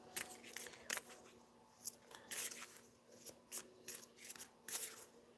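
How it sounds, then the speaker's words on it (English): Soft papery rustling and light riffling of tarot cards being shuffled, in short bursts with brief pauses between, close by and fairly quiet. "I actually want to shuffle these a little bit more."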